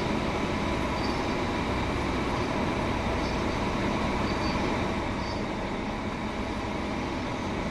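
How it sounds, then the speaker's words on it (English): Train Sim World 2 train on the West Cornwall local line between St Ives and St Erth, crossing a bridge with a loud, continuous rumbling roar of wheels on track that holds steady throughout, close and with no talking. "Lovely view as the train goes over the bridge."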